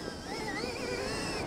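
A Stark Varg electric dirt bike accelerates with a high, whining electric motor tone that rises and wavers, heard close and steady over wind noise.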